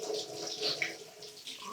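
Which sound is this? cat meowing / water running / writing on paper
water running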